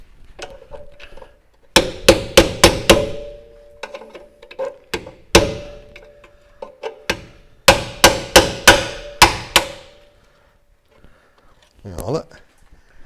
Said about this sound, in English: It's all just a hammering.